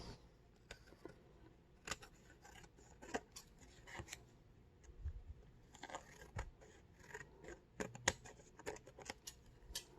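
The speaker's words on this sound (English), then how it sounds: "what I am going to do is trim it just in case it hangs over when I put it through the die cutting machine" Scissors trimming patterned paper before die cutting: faint, quiet snips and crisp crunching cuts scattered irregularly over several seconds, close and alone with no voices.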